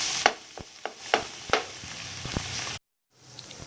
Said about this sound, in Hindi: फिर इसको जो इस तरह से मैश करेंगे ताकि वो अच्छी तरह से सारे हलवे में मिक्स हो जाए